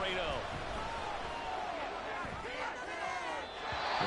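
A stadium crowd in an American football video game roars steadily through the whole stretch, a dense swelling wall of cheering with shouts rising near the end, heard without clear commentary over it.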